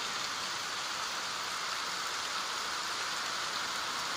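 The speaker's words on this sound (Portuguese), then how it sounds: "Uns 20 minutos que está chovendo." Rain falls in a steady, even hiss after a long dry spell, constant and moderately close, with no voices.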